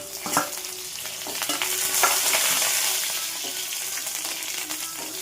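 Curry leaves and garlic sizzle in hot oil in a pan for a Telugu pappu, a steady close frying hiss with intermittent stirring scrapes and crackles.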